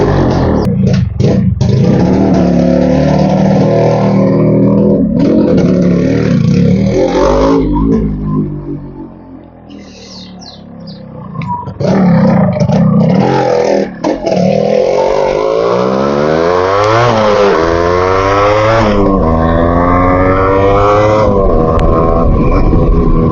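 A vehicle engine fitted with an aftermarket silencer, struggling to start in the morning: a loud, close, raspy engine that revs up and down, fades out briefly midway, then roars back with rising revs.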